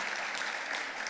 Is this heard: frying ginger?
no